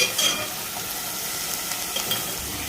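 Finely cut amaranth leaves sizzle and crackle in hot oil while being stirred, a dense, steady frying hiss up close with light scraping.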